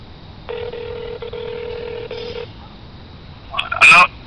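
Ringback tone of an outgoing telephone call, one long two-second ring burst followed by a pause, then a brief louder click-and-noise burst as the line connects; no talking.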